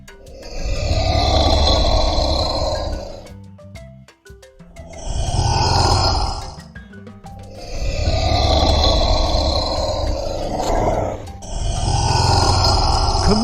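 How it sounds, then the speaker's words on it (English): A Komodo dragon gives four long, loud, guttural hissing grunts, each lasting a couple of seconds and separated by short pauses, heard close and alone. "Komodo dragon."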